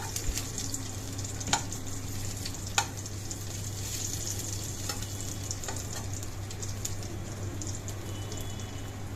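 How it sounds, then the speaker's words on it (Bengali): Crushed garlic fries in hot oil with a steady, quiet sizzle, and a few sharp ticks from the pan come through over the continuous crackle. "রসুনটাকে খুব ভালো করে ভেজে নেব, কারণ যাতে রসুনের কাঁচা গন্ধটা আর না থাকে।"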